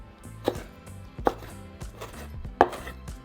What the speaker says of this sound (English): once you have your Anaheim pepper all nice and clean, we're just going to cut them into small strips